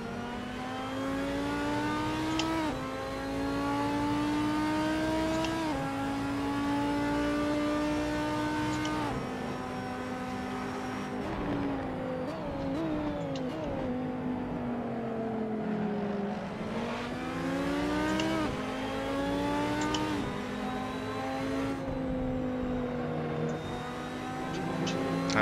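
Race car engine lapping the Kyalami circuit in Assetto Corsa, loud and continuous, revving up through gears with rising pitch sweeps and dropping on downshifts under braking, close and alone with no talk.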